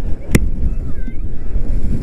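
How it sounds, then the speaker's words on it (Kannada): Strong wind buffets the microphone on a foggy hilltop ride at Kote Betta in Coorg, a loud rumbling roar with a sharp knock early on. "ತುಂಬ ಜೋರಾಗಿ ಗಾಳಿ ಬರ್ತಿದೆ"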